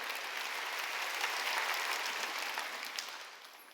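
A church congregation claps together in sustained applause during a Sunday worship service, loud and even, tapering off toward the end.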